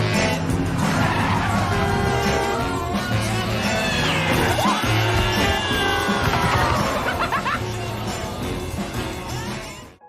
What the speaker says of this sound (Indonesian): Dan tanpa basa-basi, Jay pun langsung menancap gas.